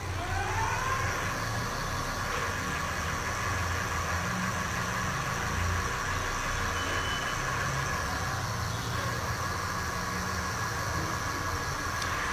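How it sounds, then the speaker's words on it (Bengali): Electric bicycle hub motor running under the throttle, a steady whine over a continuous broadband rumble, close and constant for the whole stretch with no talking. "এখন আপনি আব্দুল্লাহ দেখো এক্সেলেটরটা দিয়ে আমরা দেখাচ্ছি"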